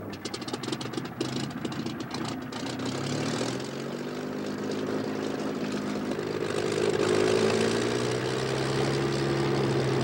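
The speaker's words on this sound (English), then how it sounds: "listen to 1987 Unlimited Gold winner Bill Tiger DeStefani as he starts the engine" The engine of Strega, an unlimited-class racing airplane, turns over and catches, rising from sputtering cranks into a steady, droning idle that swells louder toward the end, with no voices.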